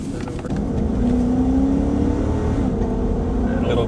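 A Chrysler 300S with a Hemi V8, in sport mode on a highway, gives a steady loud engine drone under acceleration inside the cabin, holding one rising tone throughout with road noise beneath.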